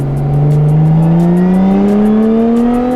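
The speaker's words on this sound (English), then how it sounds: "See how loud the actual intake is, or supercharger is at in normal mode at full throttle." A supercharged exotic car with a custom intake, at full throttle in normal mode, roars up in pitch with a loud supercharger whine rising steadily over three seconds, close and intense.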